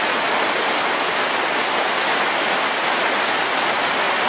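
Ocean waves surge in a steady, dense roar of rushing water, loud and continuous with no pause.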